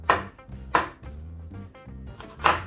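Knife chopping eggplant and sweet pepper for a simple salad on a board, a few sharp loud cuts spaced about every second or so, with quieter knife and board clatter between them.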